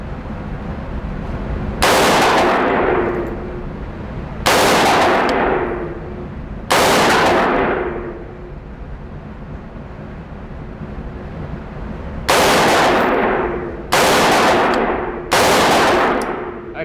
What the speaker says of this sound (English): I'm gonna shoot 2 more on the squares on the top.